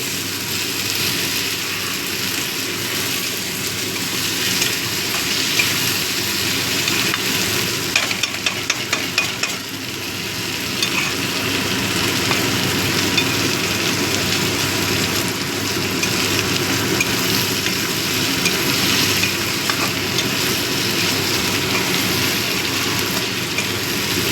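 Butter garlic prawns frying in a pan, a loud continuous sizzle under constant stirring, with occasional scraping of the utensil against the pan throughout.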